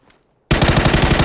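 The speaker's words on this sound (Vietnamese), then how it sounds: "Bị bắn đấy anh, xa ngoài bắn." Sudden loud automatic gunfire in the PUBG battle royale game, starting after a brief silence and continuing as a fast, steady burst of shots, with no talk over it.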